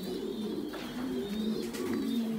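Domestic pigeons on a pigeon farm coo softly and steadily, their low, rolling calls overlapping with occasional faint flutters.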